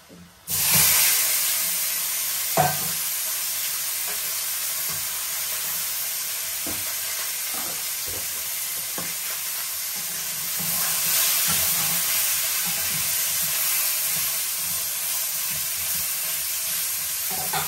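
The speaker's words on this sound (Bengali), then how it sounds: "এখন মাছটা ভেজে নিব।" Fish fries in hot oil in a pan, giving a loud, continuous sizzling hiss that swells slightly partway through, with a few faint utensil taps scattered across it.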